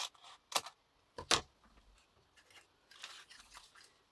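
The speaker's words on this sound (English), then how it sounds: "I'm not very good at cutting straight, cut across the middle" Two sharp scissor snips cut across the middle of folded paper during a desk craft project, separated by quieter rustling and a faint later crunch, close and alone without talk.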